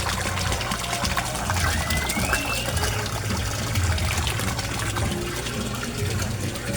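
An 18-watt aquarium air pump bubbles water in a koi tank, producing a dense, continuous churning burble that stays loud and close without pause.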